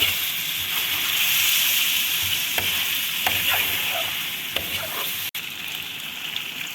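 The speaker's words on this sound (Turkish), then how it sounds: "Ve bunu güzelce bir tekrardan kavuracağım." Steady sizzling from a hot pan as tomato paste is stirred and sautéed, with occasional scraping taps of a utensil near the end.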